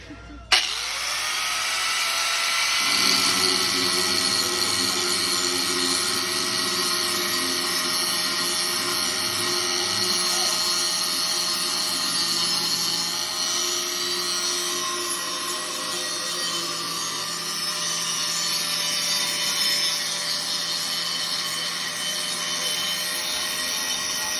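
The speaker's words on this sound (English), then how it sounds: "This is a handheld grinder." A handheld shop grinder starts with a sharp jolt and spins up to a loud, steady high-pitched whine that runs on continuously, close by.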